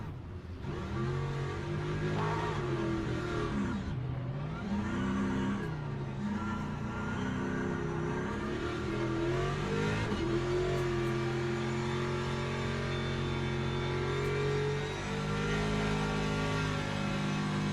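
Race car engine in the Le Mans Ultimate sim during a WEC-style race, droning loudly and continuously with rising and falling revs through gear changes, alone without talk.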